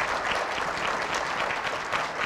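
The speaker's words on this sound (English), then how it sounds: "let's give the governor and the First Lady a round of applause" Audience applauding a state governor and First Lady at a speech event, steady dense clapping throughout, fairly loud and close, with no talking over it.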